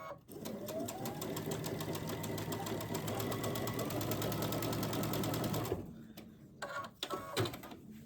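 A sewing machine stitches two quilting fabric pieces right sides together at a quarter-inch seam, a fast even whir that runs steadily for several seconds, then stops and leaves a few soft handling clicks.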